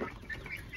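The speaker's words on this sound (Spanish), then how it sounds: "Ahí están los pollitos de raza francés." French-breed chicks in a poultry-raising setup give a few soft, brief cheeps and clucks, close and faint, in a very short moment without talk.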